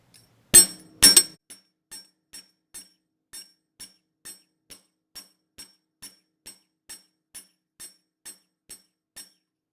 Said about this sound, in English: Go ahead and hammer.